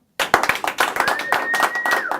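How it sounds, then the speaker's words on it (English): An audience breaks into clapping after a sudden start, a close burst of dense, irregular handclaps lasting a couple of seconds, with a faint whistle-like tone and a few voices mixed in. "Let's clap it up."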